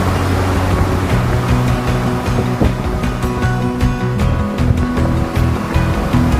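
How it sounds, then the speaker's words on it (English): Water gushes hard from the Guernsey Dam release in Guernsey State Park, Wyoming, a loud, continuous roaring rush with steady low rumble and no pauses or voices. "the Guernsey Dam is really gushing"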